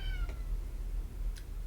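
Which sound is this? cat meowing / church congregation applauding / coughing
cat meowing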